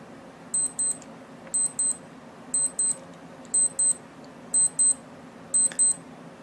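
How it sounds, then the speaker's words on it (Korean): Casio G-Shock GA-2000E watch alarm sounding, a high electronic beep pattern of quick double chirps repeating six times at a steady pace over a faint background hum. "알람 역시 10초간 알림음을 울려줍니다."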